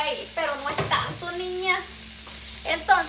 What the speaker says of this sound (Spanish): Entonces, sofreímos aquí unos segunditos.